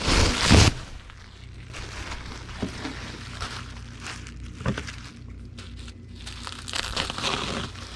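A sheet of bubble wrap is handled and cut in half, with soft close crinkling and rustling, one sharp crackle at the start, then intermittent plastic crackles and rubbing.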